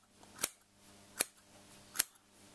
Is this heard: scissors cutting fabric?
yes